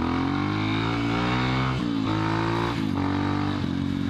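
A Suzuki GSX-R sport motorcycle accelerates hard into a wheelie, its engine screaming loud and close through rising revs, with quick gear changes breaking the climbing pitch several times.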